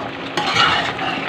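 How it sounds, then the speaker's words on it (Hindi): A spoon stirs matar paneer curry in a pan, a brief bright scraping and bubbling sizzle that swells after a short quiet start and holds steady. "इसको चलाते हुए पकाऊंगी"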